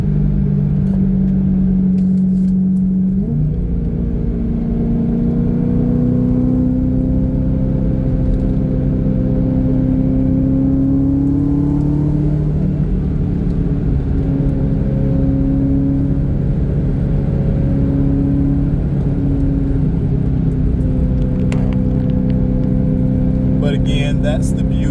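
BMW E93 M3 convertible with the S65 V8 cruising on a mountain parkway, its engine droning steadily with smooth revs rising and falling, a sustained mid-level hum with gear changes, mixed with road rumble and wind.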